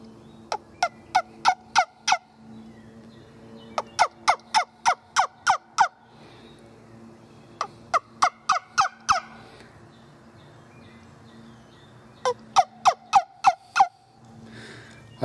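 Loud, close turkey yelps from a wingbone call, sharp notes in quick runs of five or six, repeated in several separate sequences.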